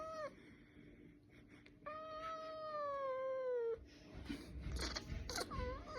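A cat at a veterinary clinic lets out two drawn-out, wavering meows, the second long and plaintive, followed by rustling, handling noise and faint background sounds in the room.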